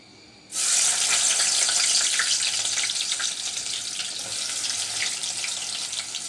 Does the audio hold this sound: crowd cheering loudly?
no